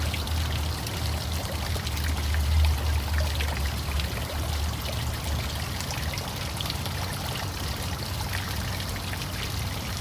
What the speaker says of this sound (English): I'll go ahead and collect a little bit of the water first